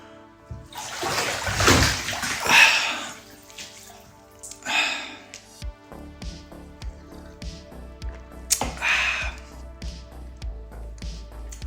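Water sloshing and splashing in a bathtub, several bursts of splashing with drips and quieter movement between them, close by, with a faint background hum later on.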